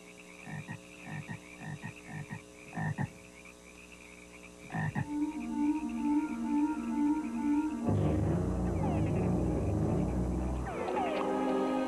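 Frogs croak in a Panama jungle at night in repeated short, throaty pulses, some in quick runs and some spaced out. A deeper, louder rumbling chorus takes over near the end.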